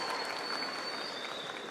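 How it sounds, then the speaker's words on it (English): Delegates at a California state party convention cheer and applaud in a large hall, a steady dense wash of clapping and crowd noise that stays loud and even throughout. "please refrain from cheering"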